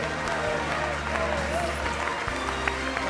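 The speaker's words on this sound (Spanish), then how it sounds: "¡Fuerte el aplauso!" Applause from an audience at the Martin Fierro 2014 television awards ceremony, fairly faint and steady, mixed with crowd noise and bits of background talk.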